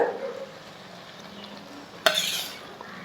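A beef roast mixture is stirred in a pan, a soft sizzle running under gentle scraping and one sharp metallic clatter of the spoon against the pan midway, with no talking.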